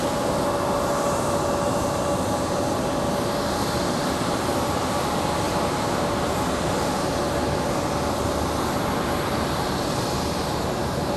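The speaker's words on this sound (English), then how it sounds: "This is United 1814 from Newark, New Jersey, a 737-700" A United Boeing 737-700 arriving at Raleigh-Durham airport, heard as a steady, loud, broadband jet engine roar that holds throughout with a faint tonal whine and no voices.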